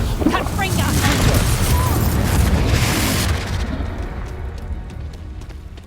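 An explosive Confringo spell blasts in the Hogwarts Legacy video game, a loud, booming, rumbling detonation that sustains for a few seconds and then tails off into a quieter rumble.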